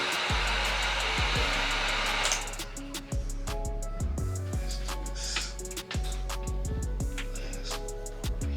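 A heat gun blows a steady loud rush of hot air over a Glock 19 slide during installation, running for about two seconds before cutting off, followed by clicks and handling of parts.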